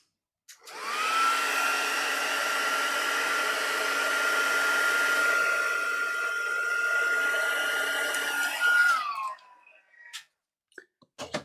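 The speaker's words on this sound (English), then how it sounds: "Now I'm just going to run the dryer over that" A heat gun blasts hot air over a sheet of hand-coloured paper, a loud, steady whine with a constant high tone that runs for about eight seconds, then winds down, followed by a few faint clicks and handling noises.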